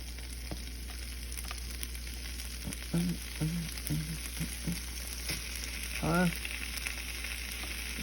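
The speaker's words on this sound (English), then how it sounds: "Okay, the pan is already starting to sizzle." Ground turkey sizzles and fries steadily in a frying pan, with a few brief clinks and taps of a utensil over the constant hiss.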